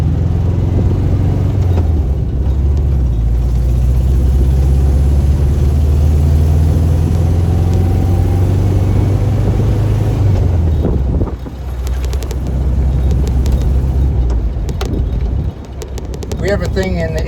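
An air-cooled VW Beetle drives with its engine droning loudly and rising in pitch as it accelerates, then dipping and climbing again through gear changes, with wind rumble and a voice talking over it.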